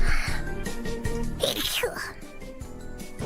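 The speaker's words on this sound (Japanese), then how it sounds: "Good sneeze." One sudden sneeze bursts out in the middle, surrounded by a streamer's chatter and a busy background mix of voices and music.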